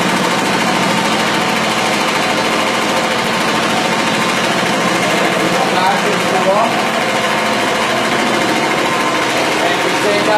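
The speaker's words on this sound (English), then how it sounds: "the agitation from the machine agitates the carpets upside down and beats out the grounded dirt" A rug cleaning machine agitates an oriental rug, beating ground-in dirt out of the pile with a loud, steady mechanical drone and rapid buzzing churn that holds unbroken throughout.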